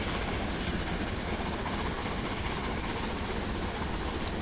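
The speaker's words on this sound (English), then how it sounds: "Flying Scotsman climbing Sherman Hill alongside Union Pacific 844" Flying Scotsman and Union Pacific 844 steam locomotives climbing Sherman Hill side by side in a train simulator game, a steady dense rumble of wheels and running gear that stays loud and unbroken throughout.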